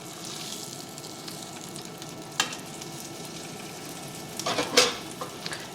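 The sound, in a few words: chicken cordon bleu frying in skillet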